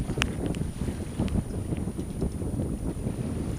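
A sailboat under sail, just after leaving the Mortoli anchorage in Corsica with sails set in about 13 knots of west-northwest wind, gives a steady rush of wind and water with buffeting on the microphone and occasional small knocks.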